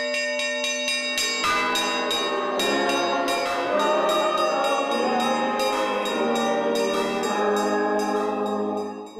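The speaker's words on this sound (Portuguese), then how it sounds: "O repique, na verdade, a gente começa ele com o sino grosso" Church bells ring a lively repique for the Festa do Divino, a heavy bell leading and smaller bells answering in rapid overlapping strokes, loud and continuous throughout.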